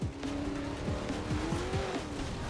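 Street race car in Forza Horizon 4 near Stockbridge, engine revving loud and close with rising and falling gear shifts and brief tire squeal throughout.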